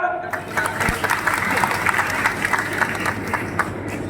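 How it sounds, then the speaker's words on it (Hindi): A crowd claps together in a sustained burst of applause that fills the whole stretch at an even, lively level. "अगर सही है तो ताली बजाओ"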